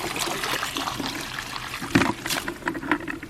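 Seawater and seaweed dumped out of a bucket in a garden, a brief splashy pour with a sharper gush near the middle, trickling and dribbling close by without talk.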